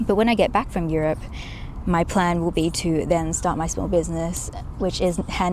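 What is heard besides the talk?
No everyday noise stands out behind the speech.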